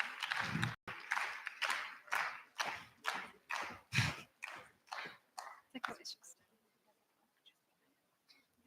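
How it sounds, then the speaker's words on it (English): An audience clapping for a volunteer singer at a youth climate assembly, a quiet series of about a dozen regular clap-like bursts, distant and soft, fading out after six seconds. "Can we clap for him?"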